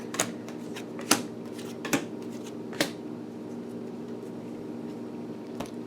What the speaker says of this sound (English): Alright, let's get these cards out.